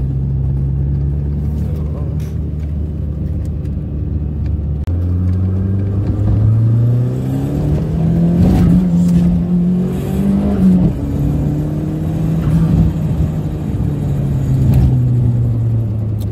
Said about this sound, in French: Et ça ouvre, le turbo là.